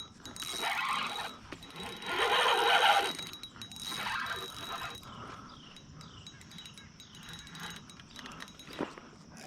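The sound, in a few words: fishing reel drag while fighting a catfish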